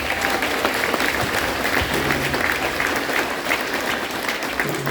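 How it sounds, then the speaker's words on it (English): An audience at a sixth-grade school band concert applauds, a dense, continuous wash of many hands clapping at steady loudness, filling the room with no break. "let's give him a round of applause"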